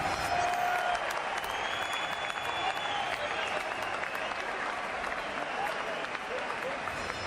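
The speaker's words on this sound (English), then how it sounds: "Ladies and gentlemen, a round of applause." Crowd in a boxing arena after a WBO world light heavyweight title fight in Cefn Forest, Wales, giving sustained, dense applause with clapping and cheers, moderately distant, while an announcer speaks over it.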